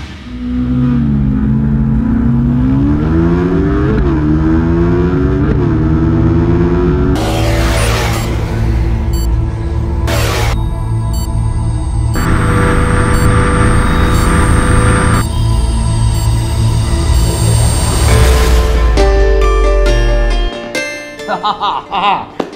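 A KTM Duke 390 and a Ninja 300 motorcycle accelerate hard in a top speed run, with a loud engine note climbing through several gear shifts into a sustained high-revving drone before easing off at the end.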